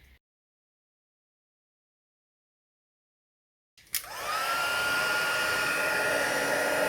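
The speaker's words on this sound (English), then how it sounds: "I'm just going to heat emboss the Happiest Birthday Wishes sentiment onto a scrap of Calypso Coral cardstock" After a long silence, a heat tool switches on and blows a steady, close, loud whoosh while melting white embossing powder on a scrap of coral cardstock.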